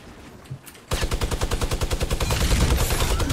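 Rapid automatic gunfire in the video game Fortnite bursts in after a quiet moment and keeps going as a loud, continuous rattle of closely spaced shots.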